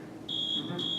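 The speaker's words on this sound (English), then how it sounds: "Do you remember being in school and hearing the fire alarm?" School fire alarm sounding as a loud, steady, piercing electronic tone in two pulses with a brief gap between them, alone without voices.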